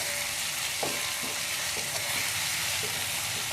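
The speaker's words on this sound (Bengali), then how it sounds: "পেঁয়াজটাকে লাল করে ভেজে নেব" Onion fries in oil in a kadai until it browns, a continuous close sizzle broken by soft scraping stirs of a spatula.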